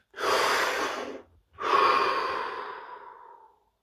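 Two deep breaths drawn in close to the microphone during a guided breathing exercise, each a long airy inhale-exhale lasting over a second, separated by a brief pause, with no talk.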